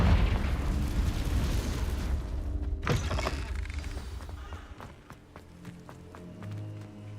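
A loud blast from the Confringo explosion spell in a Harry Potter video game booms out over game noise, followed by a series of lighter crackling pops as the sound fades.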